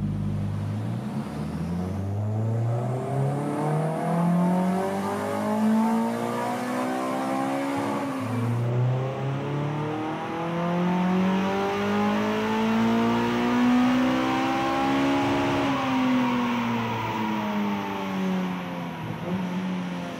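A K-swapped Honda S2000 engine roars through a dyno power run, climbing steadily in pitch through the gears with loud, sustained revs and a brief shift pause midway, heard alone.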